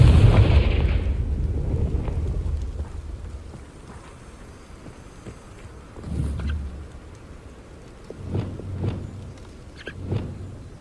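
A Confringo blasting curse goes off in Hogwarts Legacy: a loud booming burst at the start that rumbles away into a low, crackling tail, followed by a few softer thuds and impacts later on.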